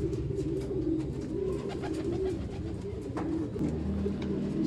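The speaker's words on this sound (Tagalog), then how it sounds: "mga ligaw na ibon ngayon mga paikot-ikot dito." Pigeons coo steadily around a pigeon loft with wild birds circling, a dense, continuous cooing chorus close by with some chirping above it.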